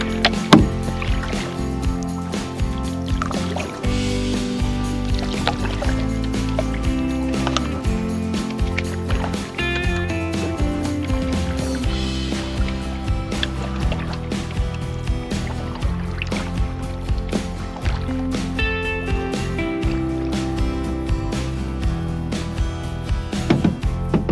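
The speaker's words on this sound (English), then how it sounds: "out into the glorious sunshine for a great paddle back to the car" A canoe paddled across backcountry water on a sunny camping trip, with repeated paddle strokes, knocks of the paddle against the hull and splashing in a steady rhythm, close and continuous with no talking.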